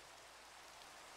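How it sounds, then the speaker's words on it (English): Steady, soft hiss of rain falling in a video game, even and continuous throughout, quiet with no other sounds. "Sorry for the rain, guys."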